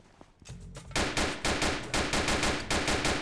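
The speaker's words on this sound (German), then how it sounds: "ich habe seinen Reifen kaputt geschossen" Rapid gunfire in the video game Notruf Hamburg as a shot tire is blown out, a loud burst of evenly spaced shots following a brief quieter lead-in, with no talk over it.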